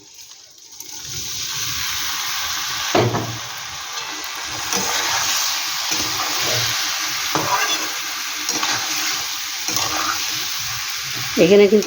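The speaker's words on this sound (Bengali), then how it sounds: "এবার আমি যে চালটা ধুয়ে রেখেছি চাল ডাল সেটাকে আমি দিয়ে দিচ্ছি" Washed rice and lentils are tipped into a hot pot for shrimp khichuri, giving a steady sizzling hiss with stirring scrapes and brief splashes close by, while someone speaks briefly.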